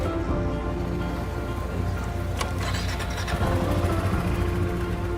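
A motorcycle engine rumbles steadily at close range, with a sharp burst partway through, mixed with a rain-like hiss and no talking, on a ride in the Himalaya.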